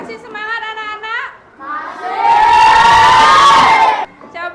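A classroom of schoolchildren bursts into loud cheering and shouting after a teacher speaks, the crowd noise swelling for about two seconds before a voice returns.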